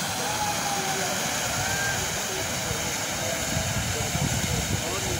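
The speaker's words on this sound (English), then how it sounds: "The glaciers are melting. You can see the gushing water." Meltwater from a melting Himalayan glacier near Hemkund Sahib, gushing steadily as a loud, broadband roar with no break, wind-like rushing filling the whole clip.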